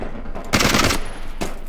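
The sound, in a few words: gunfire in the video game Ace of Spades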